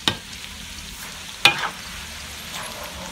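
Marinated sun-dried pork fries in a pan, giving a soft, steady sizzle broken by a couple of sharp scraping clacks as it is stirred.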